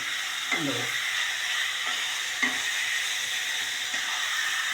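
Onion chicken cooking in a pan is stirred, with a constant sizzling hiss broken by a few soft scraping strokes of the spoon against the pan.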